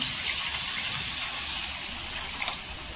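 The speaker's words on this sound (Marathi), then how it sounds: "इथे पाणी टाकायचं" A glass of water poured into onion-coconut masala frying in oil, a brief steady gush and splash over faint sizzling, close by and without talk.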